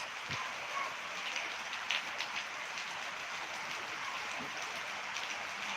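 Steady rain pattering on surfaces, a continuous even hiss with a few louder drips, no one speaking.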